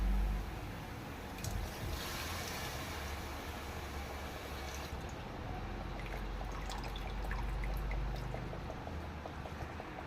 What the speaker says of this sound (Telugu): ఇప్పుడు మనం చింతపండు రసం వేసుకుందామండి